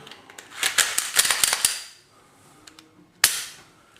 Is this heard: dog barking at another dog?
no